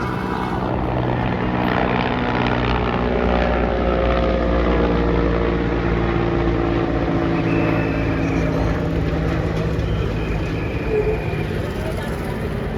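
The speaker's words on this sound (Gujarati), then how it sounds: "આ જો હેલિકોપ્ટર જાય છે." A helicopter's low, throbbing engine drones steadily overhead at Somnath during the Somnath Swabhiman Parv, loud and continuous over faint background noise.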